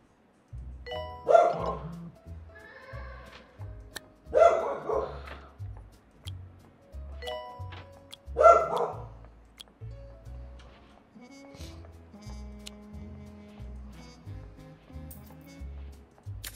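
A dog barks in the hospital-management video game Two Point Hospital, with three separate bursts spaced a few seconds apart over steady, rhythmic background music.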